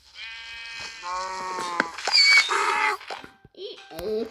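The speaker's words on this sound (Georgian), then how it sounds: "ორი ცალი, ორი ვირი დავარდა" Donkeys in the Minecraft video game let out drawn-out, wavering, braying cries one after another, loud and close, followed by a few short squeaks and game noises.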